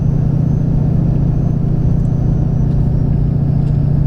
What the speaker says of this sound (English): You can hear the sound of the turbo.